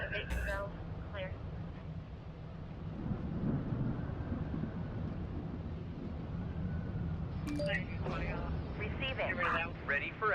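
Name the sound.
thunderstorm in the video game 112 Operator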